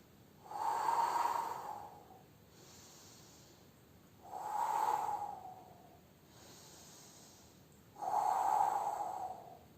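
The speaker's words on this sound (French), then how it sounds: "Oh, 3 respirations en haut." Three slow, deep breaths during an exercise workout, each a long airy exhale rising and fading at steady intervals, close and quiet with no talk.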